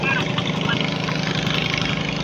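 A boat engine runs steadily throughout, a constant droning motor close by with voices talking over it.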